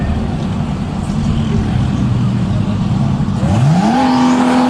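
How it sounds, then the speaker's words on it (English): Drag race cars, including an orange GTR in the GTR Unlimited class, launch off the start line, a loud sustained engine roar building into a rising rev sweep near the end, close and without talk. "Blankenship off the start line first in the orange GTR, and Datley trying to give chase right-hand side"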